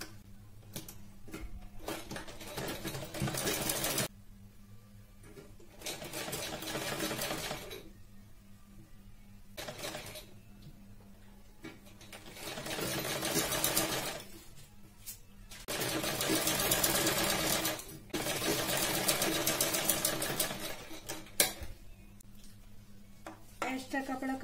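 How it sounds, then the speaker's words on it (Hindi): A sewing machine stitches piping onto blouse fabric in several bursts of rapid mechanical chatter separated by pauses, with a voice talking between the runs. "और इसमें सिलाई लगाना है।"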